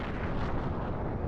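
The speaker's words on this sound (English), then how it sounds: "The Queen finally succumbs to the program and dies in a fiery explosion" A fiery explosion in a Star Fox video game as the Aparoid Queen is destroyed: a dense, continuous roaring blast rumble at steady loudness throughout, with no talk.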